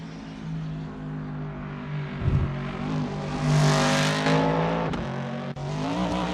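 Esperante GTR1 race car in Assetto Corsa during a Le Mans practice session, its engine droning steadily and loud, swelling as it revs up mid-way with a brief tire squeal, no talk over it.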